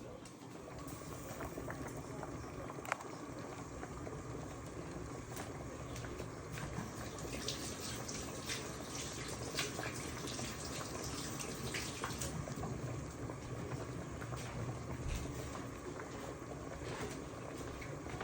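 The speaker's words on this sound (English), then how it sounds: "I'm gonna wash my hand." Water runs steadily from a kitchen tap while hands are washed during preparation of a Guyanese chicken curry with squash, a continuous broadband splashing that holds at an even level throughout.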